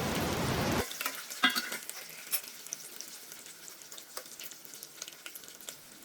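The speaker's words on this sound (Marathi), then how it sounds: "यामध्ये तेल आणि जो मसाला होता तो आपण याच्यामध्ये तेलामध्ये चांगला तळून घ्यायचा आहे" Ground masala fries in hot oil for a village-style mutton curry: a loud burst of sizzling at first, then quieter steady frying with scattered crackles and pops close up.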